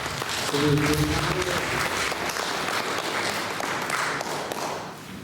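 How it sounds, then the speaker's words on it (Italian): An audience claps in steady, sustained applause for several seconds at a poetry memorial gathering, a dense patter of many hands, with a voice briefly heard early on. "Un applauso a Giuseppe."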